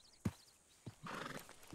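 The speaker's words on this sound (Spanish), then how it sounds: "Calme su caballo, que estaba muy nervioso por usted." A nervous horse in the video game Red Dead Redemption II gives two soft hoof thuds, then a whinny, quiet and heard alone.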